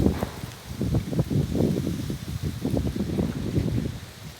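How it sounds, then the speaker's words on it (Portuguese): Strong wind gusts through a countryside yard, tossing leaves around, with a steady rustle and repeated low buffeting thumps close to the microphone, and no voices. "Olha, o vento leva pra lá, depois traz pra cá."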